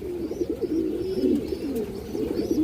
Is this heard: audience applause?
no